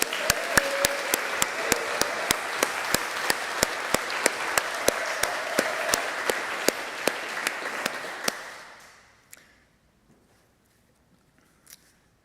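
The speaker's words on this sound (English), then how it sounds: "give Pat, Bernie, and the choir another round of applause" A church congregation at a Labor Day service applauds the choir with steady, sustained clapping, loud at first, then fading over a couple of seconds to near silence with a few last scattered claps.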